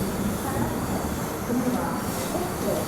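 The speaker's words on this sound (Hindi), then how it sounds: "Daund chord line railway station पे आपका स्वागत है" A passenger express train stands at Daund Chord Line railway station, a steady low rumble and hiss of the idling train and platform ambience filling the scene without a break.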